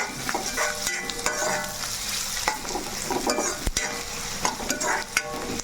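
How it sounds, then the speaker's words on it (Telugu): Onions fry and sizzle in a pan, a steady crackle punctuated by repeated stirring scrapes and a sharp clank near the middle, close and fairly loud with no voices. "ఇప్పుడైతే మనం మళ్ళీ ఉల్లిపాయలు ఎగినాయో లేదో చూద్దాం"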